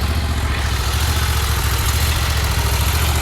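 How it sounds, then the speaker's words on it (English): A 2020 Scag Turf Tiger 2 mower with a 61-inch velocity deck and a 37 hp fuel-injected Vanguard engine idles close by, giving a loud, steady low rumble that holds without change. "A 2020 Scag Turf Tiger 2, 61-inch velocity deck, 37 horsepower Vanguard engine, electronic fuel injection."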